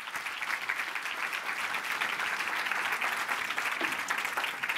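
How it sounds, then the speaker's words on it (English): An audience at the World Science Festival claps steadily, a dense, even patter of many hands that lasts through the whole stretch with no voices over it. "Give them a round of applause."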